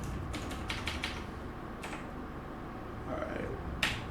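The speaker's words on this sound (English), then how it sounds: "I'll use my keyboard here." Fingers tap at a computer keyboard in a short, uneven run of quiet clicks, a few close together at first and then scattered, under faint room noise.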